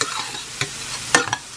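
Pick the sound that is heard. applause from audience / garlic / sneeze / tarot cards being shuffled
garlic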